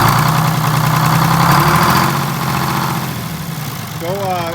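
A Detroit Diesel 6-71 engine in a 1947 Silversides bus idles with a steady, close, loud mid-low drone after governor and fuel linkage work, with people talking over it.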